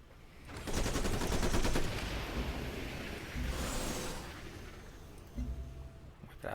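Gunfire from an attack in the strategy game Civilization Beyond Earth: Rising Tide, loud rapid bursts of automatic shots with booming impacts, followed by a lower rumbling barrage and a final burst.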